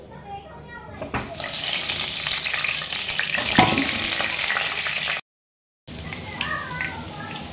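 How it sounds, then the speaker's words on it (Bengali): Potatoes dropped into hot mustard oil set off a loud, bubbling sizzle that keeps crackling steadily, with a brief silent break before the frying noise resumes. "তেল গরম হয়ে গেছে, আমি এর মধ্যে দিয়ে দেব আলু।"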